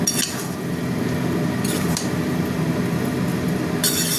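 A cooking pan being stirred, with soft scraping and clinking of a utensil against the metal over a steady sizzling bed, with a few brighter clinks near the start and end, no talk.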